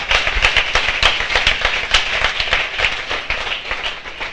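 A church congregation claps and applauds the Lord in a dense, continuous burst of rapid hand claps, loud and close, with no voices above it.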